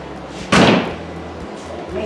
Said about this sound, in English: I'll just close the door here.